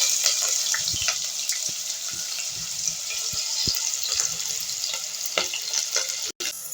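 Two chopped big onions go into hot oil with crackled spices for a vegetarian gravy, producing a loud, bubbling sizzle with scattered pops and stirring knocks close by, no speech.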